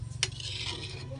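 Ginataang malunggay with kamote, a sweet potato and moringa coconut stew, bubbles and simmers in a pot with a steady sizzling hiss, one brief utensil scrape and a low hum in the background.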